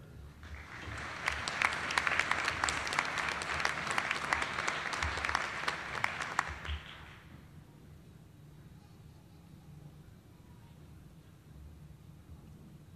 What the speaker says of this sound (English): Let's give all three of them another round of applause